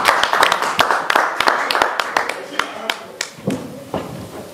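Audience applauding at a press conference ahead of a concert, a dense burst of sharp hand claps near and loud that thins out into scattered claps toward the end.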